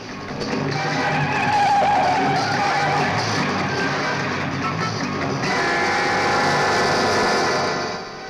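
A taxi drives hard and skids in a chase scene from a 1980 Hindi film. A loud engine roar and tire squeal hold steady for several seconds, then shift and continue near and strong.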